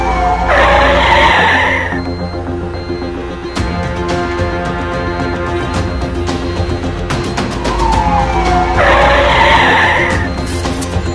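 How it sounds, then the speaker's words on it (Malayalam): Tyres skidding as an ambulance brakes hard on a road, two loud squealing bursts at the start and near the end, with engine and road noise running between them. "കൃത്യസമയത്ത് ബ്രേക്ക് ചവിട്ടി ഈ വൃദ്ധയുടെ ജീവൻ രക്ഷിക്കുകയാണ്"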